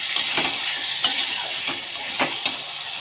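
Mutton curry sautés in a pan to cook off its water, a close bubbling sizzle punctuated by a quick run of scraping spatula strokes, with no speech.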